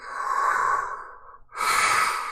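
Someone imitates slow breathing through a gas mask, giving two long, hissing breaths, one drawn in and one pushed out with a brief pause between them, close and fairly loud.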